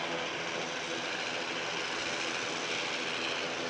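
An ATR turboprop at Manchester Airport gives off a steady, distant engine drone, a broad even rumble held throughout with no voices.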